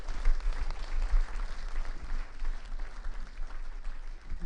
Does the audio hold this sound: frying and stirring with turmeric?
no